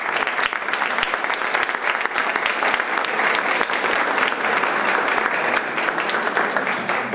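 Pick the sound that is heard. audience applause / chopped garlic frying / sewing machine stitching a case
audience applause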